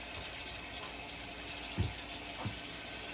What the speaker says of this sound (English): And then I can just wash this normally as I would, preferably with Dawn. You want to soak it with because it's going to be pretty oily.